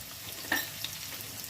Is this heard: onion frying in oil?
yes